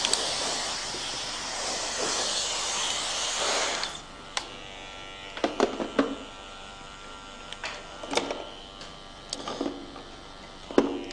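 Electric hair clipper buzzing continuously during a clipper-over-comb haircut at a barber training event, then shorter on-off bursts with comb and handling clicks, close and fairly loud, no talking.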